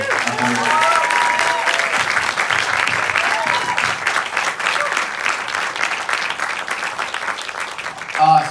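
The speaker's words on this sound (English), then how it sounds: "First of all, round of applause once again for" Audience applause after a film screening at the Big Apple Film Festival, loud continuous clapping with some voices and a few brief tonal sounds mixed in, swelling briefly near the end.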